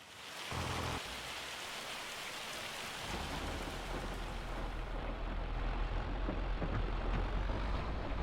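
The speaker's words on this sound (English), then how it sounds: "Is it because it's hail, not rain?" Hail storm in the video game Farming Simulator 25, a dense continuous hiss of pelting precipitation with low thunder-like rumble building steadily, no talk.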